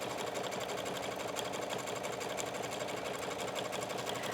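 A faint, steady machine hum comes from a sewing machine running a zigzag stitch over the folded fabric edge of a tablet pouch, continuous and unbroken throughout.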